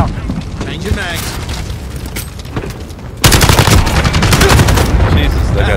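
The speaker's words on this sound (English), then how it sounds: "Allied cluster strike inbound." Call of Duty Modern Warfare cluster strike rains down on Backlot: loud rapid explosions and gunfire crackle, then a heavy, dense burst of blasts roars in partway through and keeps going.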